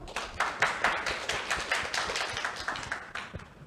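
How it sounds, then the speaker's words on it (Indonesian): A small seminar audience gives a brief round of separate hand claps, fairly close and uneven in rhythm. "Kasih tepuk tangan dong."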